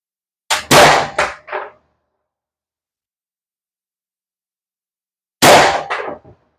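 A paintball marker fires Grimburg HP68 and Riotball LL projectiles, giving a sharp, loud crack followed by a few quick rattling echoes, then a long silence before a second identical shot.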